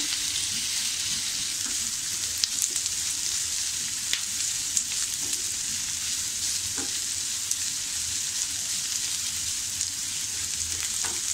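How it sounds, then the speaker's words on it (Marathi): Chopped onions sauté in a pan for restaurant-style paneer masala, turning light pink, with a continuous even frying crackle and occasional faint ticks of stirring, and no speech. "हे बघा, आता आपला हा कांदा थोडा असा गुलाबी रंग होईपर्यंत आता परतत आला आहे."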